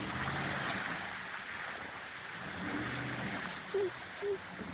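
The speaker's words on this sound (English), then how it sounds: "She is going to take that truck through those massive ruts." A truck grinding through massive muddy ruts at Jim Creek, its engine a steady, muffled drone that swells as it works under load, with two brief tonal blips near the end.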